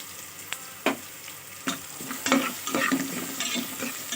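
Chopped onions frying in a little oil in a pan, a steady soft sizzle broken by several sharp clatters and scrapes as a spoon stirs them, close and fairly quiet.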